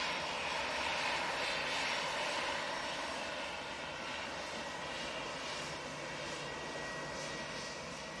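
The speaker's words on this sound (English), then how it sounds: "So that's the Q80 A330 Neo coming in from Kuwait City" An Airbus A330neo airliner arriving from Kuwait City at Manchester Airport makes a steady, loud engine roar that fades slightly as the landing plane passes, with no talking.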